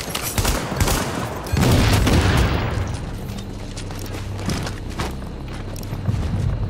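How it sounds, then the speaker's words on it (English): Enemy AI gunfire in The Division beta comes in loud bursts and booms that peak early, then tapers into scattered shots and footsteps over a low rumble. "There's an AI shooting."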